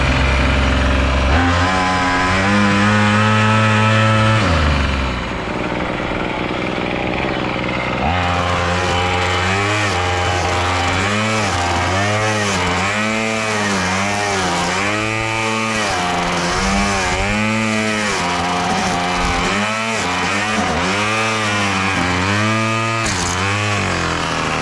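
A repaired Craftsman weed eater's small two-stroke engine starts up and runs, first idling with a loud buzzing drone, then revving up and down repeatedly in close, rhythmic bursts.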